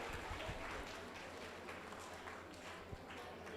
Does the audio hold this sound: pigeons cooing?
no